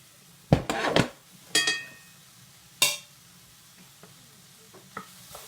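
Cooked rice tossed with vegetables in a pan: a few sharp scraping and rattling tosses with brief sizzle, close by, then quieter occasional clinks of the utensil.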